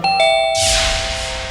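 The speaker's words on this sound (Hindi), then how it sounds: "फिर अचानक से घंटी बजी।" A doorbell chimes twice in quick succession, bright ringing tones followed by a burst of noisy rustle, nearby and loud.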